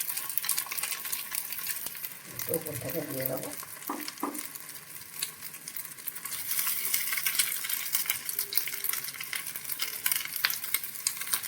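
Bread slices dipped in egg, salt and pepper fry in a hot pan with a steady bright sizzle, interrupted early by a brief muffled clatter of placing them, then a continuous close crackle.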